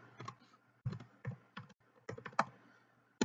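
Quiet, irregular bursts of keystrokes clicking on a computer keyboard, typed in short clusters with brief pauses between.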